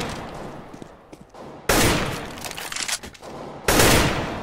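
Counter-Strike: Global Offensive gunfire: scattered shots crackle, then two loud, sharp bursts ring out about two seconds apart, each decaying with echo.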